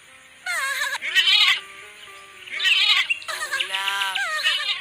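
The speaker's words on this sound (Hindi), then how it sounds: "तभी एक भूखे भेड़िए ने रोते हुए लैम्ब की आवाज सुनी।" A cartoon lamb bleats and cries several times, loud and close, its wavering calls coming in separate bursts with short gaps between them.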